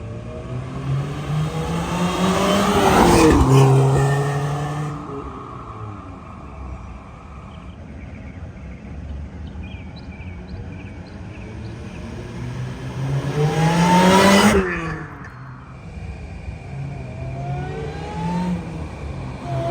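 A supercharged car fitted with a JRSC supercharger, LHT intercooler and pulleys accelerates hard along a road in two loud bursts, each engine note rising, peaking and fading away with quieter roadside ambience between.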